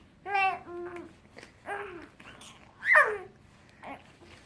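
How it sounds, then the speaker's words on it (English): A 4-month-old baby boy babbles and lets out a sharp, rising squeal among softer coos and vocal sounds, close to the microphone with quiet pauses between outbursts. "He squeals now."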